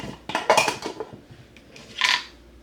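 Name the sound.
handling a Dutch oven pot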